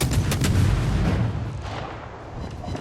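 Heavy naval gunfire from the German cruiser Graf Spee in the online warship game World of Warships, a few loud booming salvos at the start followed by a rolling, decaying rumble.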